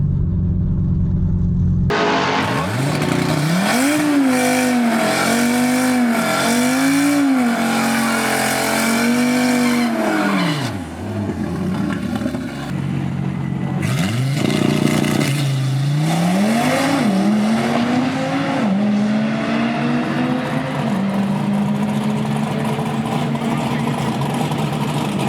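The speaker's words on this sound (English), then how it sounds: "Definitely feel like I'm spinning a lot on that launch, even with less boost." An Audi RS3 with a Stage 2 E85 tune launches down a drag strip, its engine revving in rising and falling surges with tire squeal from wheelspin, then shifting up through gears, loud and close.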